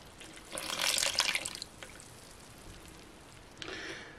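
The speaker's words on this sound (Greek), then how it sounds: "300 γραμμάρια χλιαρό νερό." Lukewarm water, 300 grams of it for bread dough, pours briefly in a soft splashing burst, falls quiet, then trickles again for a moment near the end, faint and close.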